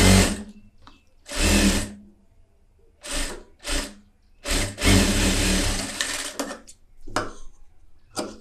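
An overlock sewing machine stitches fabric at a tailor's bench in several short, loud whirring bursts separated by brief pauses.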